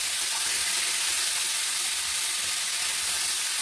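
Spiced crab and potato tipped into a hot pan sizzle and fry, a loud, close, even hiss that holds steady throughout with no talk.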